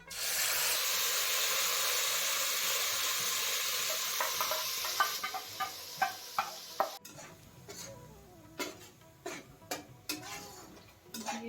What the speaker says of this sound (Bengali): এবার আমি দিয়ে দেবো যে পিউরিটা আমি বানালাম সেটা